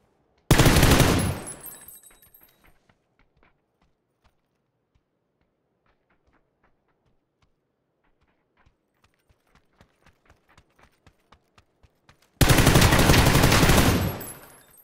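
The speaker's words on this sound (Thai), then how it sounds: "เสียงปืนในเกมดังไปปะ" Video game gunfire from Fortnite comes in two loud, harsh bursts, one at the start and one near the end, separated by a long quiet stretch of faint, sparse ticking and tapping.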